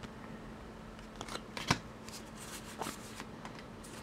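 A Pokemon TCG Burning Shadows Necrozma booster pack is opened close up, with quiet foil crinkling and a sharp tearing snap near the middle, followed by faint rustling.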